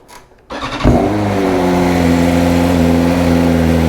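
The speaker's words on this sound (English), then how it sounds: "a cold start, because everybody loves a cold start on M1000RR" A BMW M1000RR motorcycle cold-starts after a brief quiet moment, with a short cranking whirr, a sharp loud flare of revs, then a steady, high fast idle that holds close and strong.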